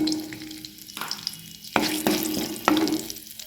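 Mustard seeds, curry leaves and hing sizzle in hot oil for tomato chutney, giving a steady crackling fry with a few sharp pops and bursts as the seeds and leaves hit the pan.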